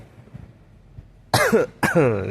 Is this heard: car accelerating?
no